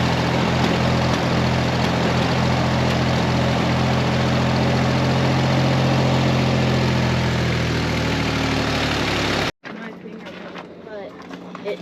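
A two-stroke engine runs on choke with a loud, steady rumbling idle close by, then abruptly cuts out and leaves a quieter background.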